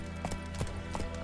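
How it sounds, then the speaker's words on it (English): Hooves of Roach, Geralt's horse in The Witcher 3 video game, clopping in a steady rhythm of rounded thuds over a constant ambient bed, with no voices. "Geralt can always count on his horse Roach to help him in his travels."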